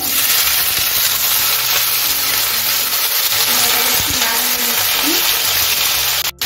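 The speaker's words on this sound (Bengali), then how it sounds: "এখন আমি কেটে রাখা কুমড়োটা দিয়ে দিচ্ছি।" Chopped pumpkin fries in hot oil, producing a continuous loud, close sizzle and crackle that runs throughout, with small clattering touches and an abrupt cut at the end.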